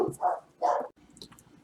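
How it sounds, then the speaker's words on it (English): Dogs bark in the background in two muffled, rounded bursts spaced about half a second apart, followed by a quieter stretch with faint clicks and no talking. "You can hear the dogs in the background"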